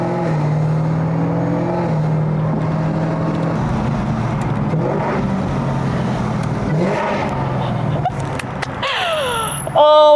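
A Chevrolet Camaro ZL1 tuned to run on ethanol drives along with a loud, close, droning engine note. Its pitch rises and falls through gear changes, and a sharp burst comes near the end.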